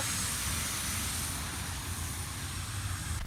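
Tractor-pulling tractor fitted with a Eurofighter jet turbine at a competition, a loud continuous roaring whine held steady from start to finish, with no voices over it.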